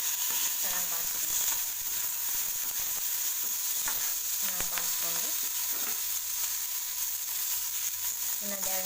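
Tomato, coriander and curry leaves sauté in a pan for a green pea and fresh chickpea pulao. A continuous sizzle runs under intermittent scraping stirs and light clinks.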